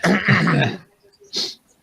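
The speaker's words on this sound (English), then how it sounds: "I'm just going to clear my throat." A man clears his throat during a tabletop role-playing session: a rough, harsh rasp lasting under a second, then a short pause and a sharp cough-like burst, close and with no other sound.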